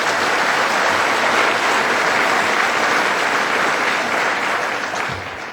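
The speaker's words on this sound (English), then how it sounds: "How about a round of applause for Bruce?" A luncheon audience at a Rotary gathering breaks into loud, dense applause that stays strong and then begins to fade near the end.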